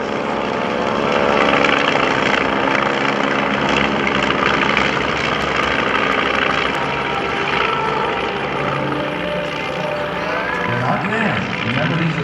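A Waco ZPF-7 biplane's propeller engine drones steadily at an airshow, loud and continuous throughout, with a commentator talking over it.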